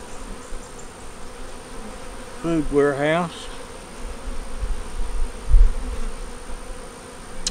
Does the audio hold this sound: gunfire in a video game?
no